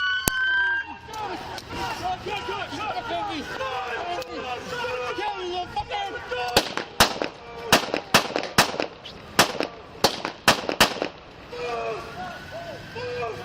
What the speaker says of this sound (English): Shots fired at Hyatt Place.